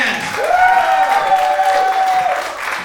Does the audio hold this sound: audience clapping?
yes